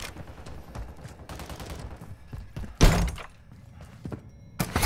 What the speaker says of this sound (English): Switching mags.